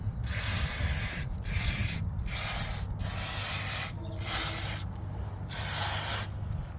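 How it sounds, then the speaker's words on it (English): Repeated bursts of pressurized aerosol brake and parts cleaner hiss in short blasts separated by brief pauses, close to the microphone, sprayed onto a Ford Everest handbrake. "use some brake and parts cleaner. You just spray that on there."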